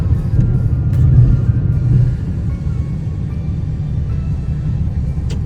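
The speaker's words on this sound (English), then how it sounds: "I'm heading out onto the street for the first time in a right-hand drive vehicle." A Toyota Chaser JZX100, a right-hand-drive car, pulls out onto the street with a low, steady engine rumble heard from inside the cabin, a slight swell early on, and no talk.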